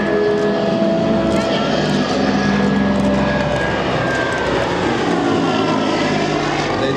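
A propeller-driven warplane at an airshow roars loudly and steadily at takeoff, its engine drone filling the scene with a rough, powerful tone while people talk nearby.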